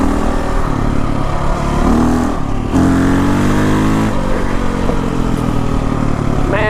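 A KTM 525 dual sport motorcycle roars up close as the rider accelerates, its engine pitch climbing and falling through gear changes with a loud, steady throaty drone.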